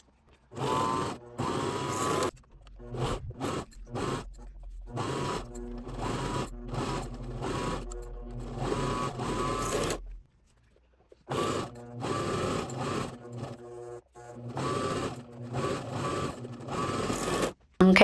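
A serger runs a stretch stitch through knit fabric for custom boxers and a waistband, a loud steady mechanical whir in several bursts with short pauses, one longer stop near the middle.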